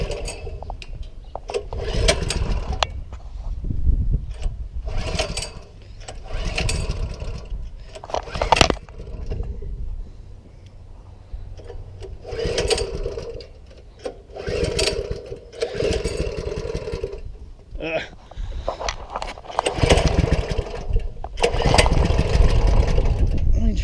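A Coleman CT200U mini bike engine with its governor removed runs loud and close, revving up and dropping back in repeated surges while people talk over it.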